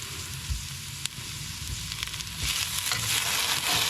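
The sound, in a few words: shallots frying in a Remoska Tria pan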